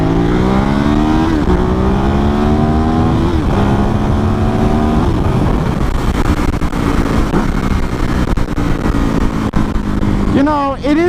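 A Ducati Hypermotard 939 motorcycle accelerates up through the gears toward about 30 mph, loud and close, with engine pitch rising and dropping at several shifts and a rider talking over the engine.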